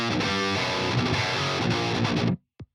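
Heavily distorted electric guitar played through a Bogren Digital AmpKnob BDH high-gain amp plugin, loud dense chugging riff with palm-muted bursts that stops abruptly, followed by one short final hit.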